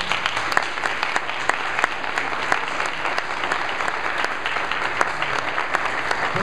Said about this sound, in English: Give these brothers a big hand clap as they take their seat.